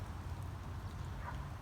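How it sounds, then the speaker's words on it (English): Steady rain falls outdoors, a soft even hiss and patter that stays faint and continuous without pause. "I don't think this rain's gonna last long, so we'll just kind of wait it out."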